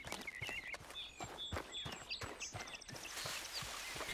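A horse in Red Dead Redemption 2 clops along at a walking pace, each hoof strike distinct and moderately close, with birdsong overhead.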